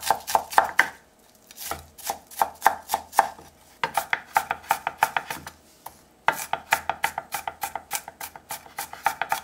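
Finely chopping garlic or aromatics on a cutting board for a seasoned cockle dish, a quick run of close, crisp knife strikes in steady bursts separated by short pauses, with no talk over it.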